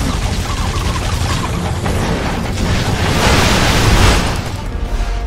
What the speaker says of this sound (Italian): Perché sono morto per le mie stesse esplosioni?